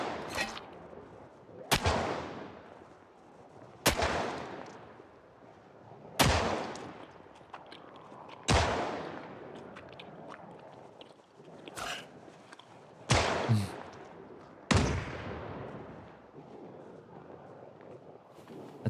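Gunshots strike a door in the video game Project Zomboid: about eight sharp, loud bangs at irregular intervals, each trailing into a long booming decay, with quieter shuffling between them.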